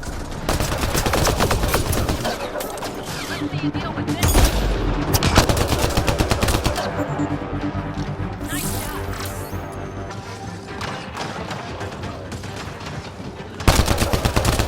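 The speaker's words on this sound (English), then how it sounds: "Probably best to focus on the people shooting at you." Mass Effect Andromeda combat: dense, loud gunfire with rapid automatic bursts and single shots, plus crashes and impacts, runs almost nonstop, with brief spoken lines under the shooting.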